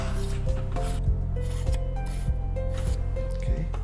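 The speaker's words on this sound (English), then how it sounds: "you're going to mount the Hyperstar lens assembly onto the threads, like so" A Hyperstar lens assembly is screwed onto telescope threads, giving soft repeated rubbing and scraping turns with small ticks at a steady rhythm, close up and fairly quiet.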